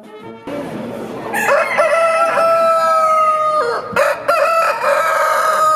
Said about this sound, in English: Pigeons and poultry were loud and colorful.